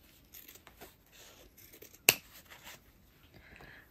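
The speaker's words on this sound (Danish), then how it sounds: "Så jeg klipper den simpelthen lige op hernede i bunden." Scissors cutting open the bottom of a worn jeans pocket: soft fabric snips and rustling, with one sharp crisp cut standing out midway, close and quiet with no voices.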